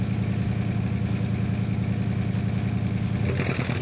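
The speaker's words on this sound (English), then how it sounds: "The exhaust system has been painstakingly tuned to get the sound that enthusiasts will sing" A 2004 Pontiac GTO with a tuned dual exhaust and chrome outlets holds a steady, close, loud engine rumble at idle for a few seconds, alone, without any voices.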